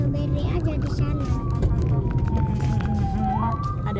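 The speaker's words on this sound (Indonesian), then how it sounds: "Ada ambulan, hati-hati," An ambulance siren wails on the road, a rising and falling tone passing under steady traffic noise and nearby chatter.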